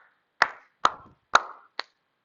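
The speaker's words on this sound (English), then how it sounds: "So as I'm clapping," Four sharp hand claps counting out a slow, even exercise rhythm during a space-awareness movement lesson, each clap crisp and close with a short room echo.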